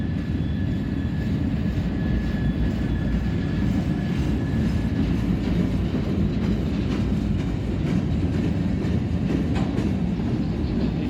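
Freight train of empty spine cars rolling past at close range in Bellevue, Ohio, a loud continuous rumble with steady clickety-clack of wheels over rail joints throughout.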